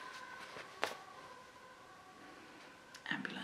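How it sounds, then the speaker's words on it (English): A distant ambulance siren holds a faint, steady wailing tone beneath low background hiss, with a couple of short louder knocks nearby. "Ambulance."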